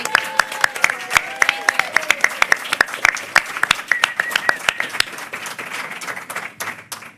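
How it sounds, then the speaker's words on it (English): Applause for Fanny at a pre-K graduation ceremony: a handful of people clap in sharp, distinct, uneven bursts that keep going and slowly thin toward the end, with some faint voices underneath. "Let's give Fanny a big round of applause."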